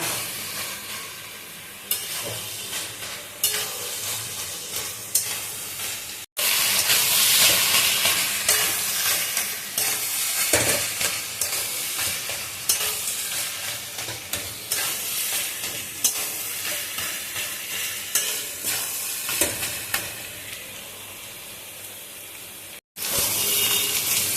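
A spatula churns and breaks up potatoes with cabbage frying in fish oil and spice paste, a loud continuous sizzle with scraping strokes throughout, briefly cutting out twice, no talking.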